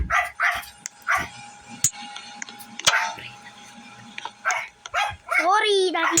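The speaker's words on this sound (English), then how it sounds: "Sorry, that is my dog." A pet dog barks and yips indoors in short, sharp bursts with a whimpering whine near the end, close and fairly loud, breaking in between stretches of a person talking during a cabin crew simulator game.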